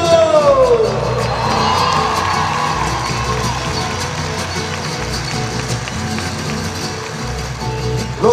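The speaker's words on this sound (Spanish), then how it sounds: "un fuerte aplauso para el Pato" A concert crowd at a live show in Aguascalientes cheers and whoops loudly for the accordionist from Monterrey, a dense sustained roar with shouts rising over it, and a voice sliding through the noise early on.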